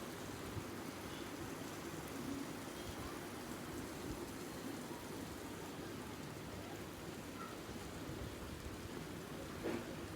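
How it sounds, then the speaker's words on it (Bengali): Light drizzling rain falls steadily outdoors, a soft, even patter that stays faint and continuous throughout with no other clear sounds. "ঝিরিঝিরি বৃষ্টি পড়ছে তো পড়ছে, কখনো আবার থেমেও যাচ্ছে"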